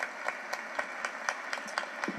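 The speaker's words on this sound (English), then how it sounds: "give her applause" An audience applauding at a community gathering, with scattered, moderately distant claps that settle into an uneven rhythm and continue steadily without any talk.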